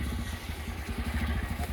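A Bajaj Pulsar motorcycle engine runs close by at a steady low idle, its even throbbing pulse continuing alone without pause.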